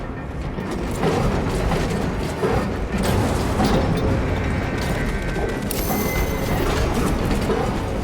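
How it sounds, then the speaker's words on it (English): An elevator arriving in Space Marine 2, a loud grinding mechanical rumble with clanking gear and ratchet noises that runs continuously and stays heavy to the end. "The elevator is almost here."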